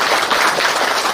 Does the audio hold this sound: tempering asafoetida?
no